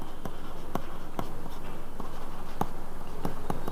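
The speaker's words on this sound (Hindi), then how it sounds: "तो लिखेंगे यहीं पर" Chalk or marker strokes on a board during a reasoning lesson on the English alphabet, a run of short taps and scratches at irregular intervals over a steady background hum.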